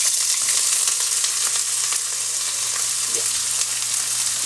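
Chopped onion frying in a pan for a Spanish omelette gives a loud, steady, close sizzle with faint stirring scrapes and no voices.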